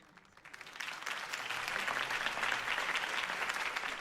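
Video game crowd applause swells quickly from quiet into a dense, sustained clatter of many hands clapping, fairly close and even in volume.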